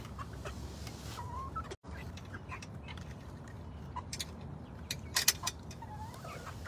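Chickens cluck and murmur softly over a steady hum of background noise, with a brief burst of louder clucking near the end.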